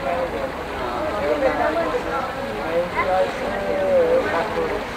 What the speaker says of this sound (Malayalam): ഇത് അതേ പോകുന്നു സ്പീഡ് ബോട്ട്